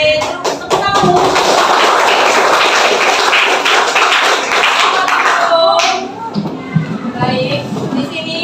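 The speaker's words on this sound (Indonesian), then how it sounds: "Oke, terus tepuk tangan" A class of sixth-grade pupils claps hands together in a classroom, a loud dense burst of rapid clapping that stops abruptly, followed by a few scattered taps and thumps.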